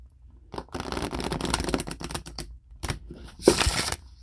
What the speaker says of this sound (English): So I'm going to deal out 12 cards.